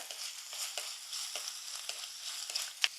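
Crushed garlic, ginger and green chillies sizzle in hot oil in a pan for a Kerala karimeen fish curry, a close, steady crackle with quick bursts of spitting and a faint clink.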